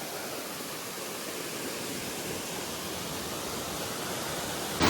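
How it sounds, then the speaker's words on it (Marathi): The hidden Asaniye waterfall in the Konkan plunges from a height onto rocks, making a constant, loud, broadband roar of rushing water with no other sounds. "पाणी किती वरून पडता बघा. पूर्ण खडपांवरती पडता."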